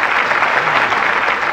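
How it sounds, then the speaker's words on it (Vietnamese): Studio audience applause at a Vietnamese television game show, a dense, steady burst of clapping filling the room at close range with no voices over it. "Hãy vỗ tay thật to đi các bạn"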